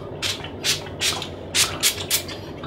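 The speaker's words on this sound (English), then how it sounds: "So I'll spray that in." Several short, sharp hisses of a hair product spray bottle close by, coming in quick uneven bursts with brief pauses between.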